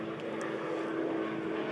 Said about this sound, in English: You hear another helicopter.